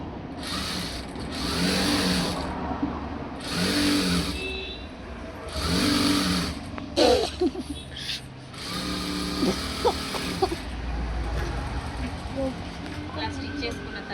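A sewing machine runs in several short, close bursts while stitching thread piping onto a blouse, with a single presser foot and handling noises between the runs.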